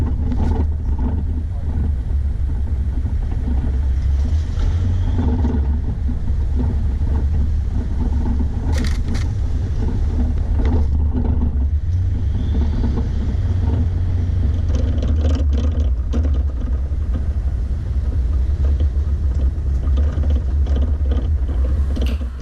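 A four-wheel drive vehicle travels a gravel outback track near Mount Jackson, its engine and tyre rumble a steady, loud drone throughout with occasional rattles and knocks from the cabin and road surface.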